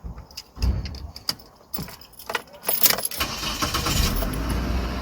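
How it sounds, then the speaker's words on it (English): A Mitsubishi Lancer Carisma being started with its key: close keys jangle and click in the ignition, then the engine cranks and catches, settling into a steady, fairly loud idle for the rest of the clip. "So now we're gonna start the car"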